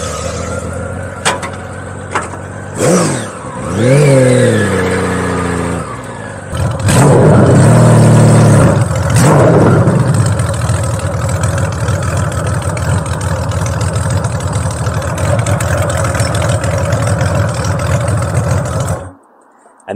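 A custom Honda Valkyrie bobber motorcycle engine idles and revs in loud bursts, rising and falling blips of throttle early on, then settling into a steady rumbling idle before cutting off abruptly near the end.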